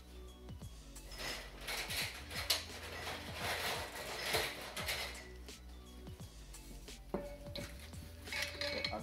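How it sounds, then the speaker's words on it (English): Metal jar lids being grabbed and handled during mushroom inoculation prep, giving a run of close, clattering clinks and scrapes at an irregular rhythm with no talking. "We're gonna grab our lids."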